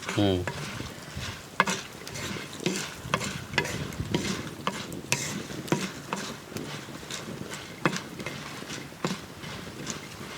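Stuffed okra fries in a pan for a crispy bhindi fry, with a continuous close sizzle and repeated rhythmic scraping and tapping of a spatula stirring throughout.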